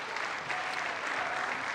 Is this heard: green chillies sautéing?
no